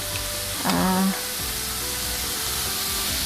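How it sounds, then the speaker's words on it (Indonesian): Chayote sizzles steadily in a hot pan, with a brief clatter of stirring, the frying hiss continuing throughout. "Labu siam tumis sebentar ya teman-teman"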